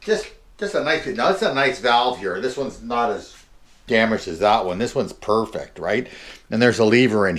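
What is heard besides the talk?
No distinct noise like a dog, phone or traffic.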